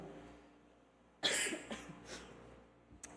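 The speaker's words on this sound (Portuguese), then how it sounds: "ainda estou com a tosse da gripe" A single close cough from a flu bursts out after a quiet pause, followed by a couple of smaller rough exhalations and a brief sharp click.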